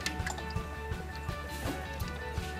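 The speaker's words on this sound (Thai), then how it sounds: "พ่นน้ำได้ด้วย" Water spraying out in a steady, close wet hiss, with small regular pulses running underneath throughout.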